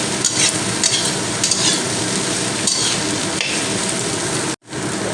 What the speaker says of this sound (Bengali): পেঁয়াজ আর কাঁচা লঙ্কা কুচনো দিয়ে দিলাম দিয়ে আবারও একই সঙ্গে নাড়াচাড়া করে নেব মিনিট দুয়েকের মতো